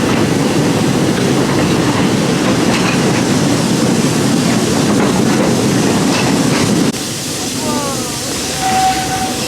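A park railroad train at Magic Kingdom rolls along with a steady loud rumbling, hissing ride noise, which drops away near the seven-second mark, leaving quieter ambience and a brief tonal squeal or whistle.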